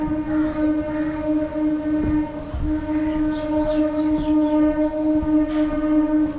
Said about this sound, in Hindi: ट्रेन भी जा रहा है पीछे।